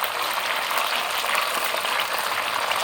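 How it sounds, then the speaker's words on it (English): Chicken wings frying in hot oil over fairly low heat, a steady, dense crackling sizzle that stays even and close throughout, with no talking. "So you hear the sizzling."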